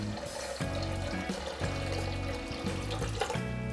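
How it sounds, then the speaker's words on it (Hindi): Water poured into a pressure cooker over dal and rice for masala khichdi, a continuous close splashing and gurgling stream lasting a few seconds with no talking. "चलिए अब इसमें पानी डालेंगे"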